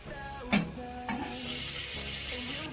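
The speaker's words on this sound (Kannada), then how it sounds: "ಬದನೆಕಾಯಿನು ಈ ತರ ಒಂದ್ ಸ್ವಲ್ಪ ಮುಚ್ಚಿಟ್ಬಿಟ್ಟು 1 ನಿಮಿಷ ಬಾಡಿಸ್ಕೋಬೇಕು." Eggplant frying in a pan for sambar, a steady close sizzle with a couple of sharp stirring scrapes and clinks near the start.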